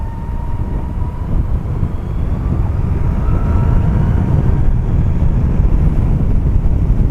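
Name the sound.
2012 Zero DS electric motorcycle riding at full throttle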